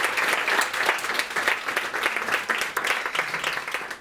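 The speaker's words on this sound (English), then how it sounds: "can I have a big round of applause again for the Ye and Siang families" Steady, full applause from a crowd of guests honouring the host families at an evening gathering, dense and continuous clapping throughout at close range.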